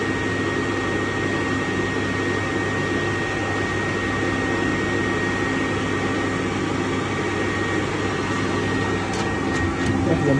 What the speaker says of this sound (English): And you go to the machine, powder machine, one side, and see if the material come out or not.